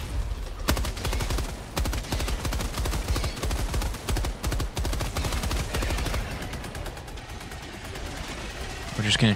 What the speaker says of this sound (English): the turret shot me